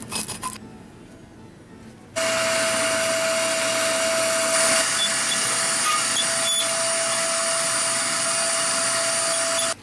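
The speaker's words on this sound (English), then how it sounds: "Now we've cleaned the plates by brushing and vacuuming them" A vacuum cleaner picks up ash and debris from the plates of a HearthStone pellet stove, starting with brushing and rubbing scrapes before a loud, steady whine takes over close by and holds to the end.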